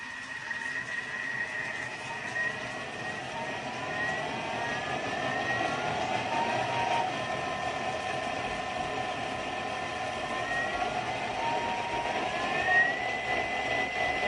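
A kitchen blender whirs steadily while making sauce, its loud, close motor whine holding an even tone and rising in pitch as the speed is gradually increased.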